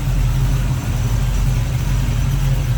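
A 1970 Chevrolet Nova with headers, an Edelbrock intake, a Holley 4-barrel and a full roller setup idles with a loud, deep, steady burbling rumble, close and uninterrupted throughout.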